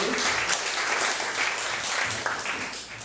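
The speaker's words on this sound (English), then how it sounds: "Clap it up for yourselves for stepping out the house on a Saturday." Applause from the audience at a Saturday poetry event, a full, even roll of clapping hands that holds steady and tapers slightly at the end.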